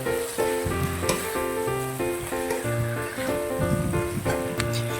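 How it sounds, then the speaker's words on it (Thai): Chinese kale and canned fish stir-fry in a hot pan, giving a constant loud sizzle with scraping, tossing noises of stirring and a humming tone underneath, unbroken by speech. "มาแล้วเราก็ผัดให้เข้ากันเลยนะครับ"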